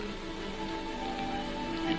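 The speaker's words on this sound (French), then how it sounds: "Il pleut." Rain falls in a continuous dense hiss with steady patter for two seconds, with no talk over it.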